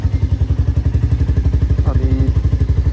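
Close up, a Royal Enfield Classic 350 motorcycle idles to warm up, its single-cylinder engine thumping in a steady, even, low beat with a light mechanical clatter on top.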